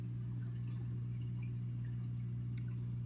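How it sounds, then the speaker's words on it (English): Air bubbles rise in a home fish tank holding angelfish, a soft steady trickle over the constant low hum of the tank equipment, fairly faint and with no voices. "Bubbles. More bubbles."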